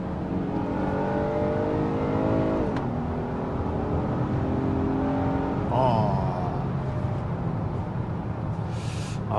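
A Honda Odyssey minivan's i-VTEC engine revs hard toward 5,500 rpm, the steady rising drone climbing in pitch through gear changes, heard close from inside the cabin with little talk.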